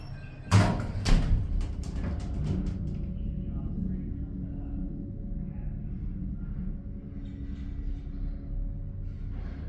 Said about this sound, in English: The door closes when you push the button.